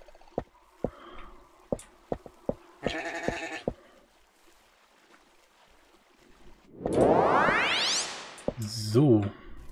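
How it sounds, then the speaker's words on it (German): Blocky sheep bleating in the Minetest MineClone5 game, a few short bleats mixed with clicks, a rising sweep and other game sound effects, moderately loud and with no talking. "Diese Schafe gehen mir schon wieder voll aufs Ohr."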